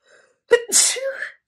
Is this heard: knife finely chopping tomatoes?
no